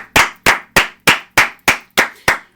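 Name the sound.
audience applause for Liam Hendricks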